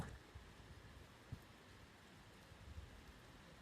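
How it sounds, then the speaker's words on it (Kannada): Heavy rain falling in Tumkur, a faint, even patter heard from a distance with a few slightly louder drops, steady throughout and without talk. "ಇವಾಗ ನೋಡಿ, ಜೋರು ಮಳೆ"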